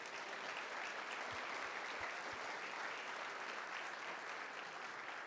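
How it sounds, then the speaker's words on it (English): Lecture audience applause fills the space, a dense, sustained wash of clapping from many hands at an even level throughout, with a few louder thumps near the start. "Let's give them a huge round of applause."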